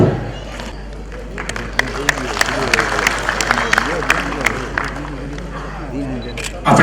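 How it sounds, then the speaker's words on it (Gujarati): Audience applause fills a hall during a civic ceremony, dense clapping from many people held steady for several seconds, with voices mixed in underneath. "આપણે સૌ તાળીઓના નાદથી આ ક્ષણને વધાવતા રહીશું."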